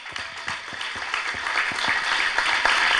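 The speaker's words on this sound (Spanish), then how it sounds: "quiero un muy aplauso para la compañera Elsa." An audience at the opening of a continental assembly applauds: steady, dense clapping from many hands that swells slightly, with a few louder individual claps close by.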